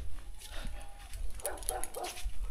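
A loose dog yips and whimpers in a few short, high bursts at close range over steady outdoor background noise, with no talking.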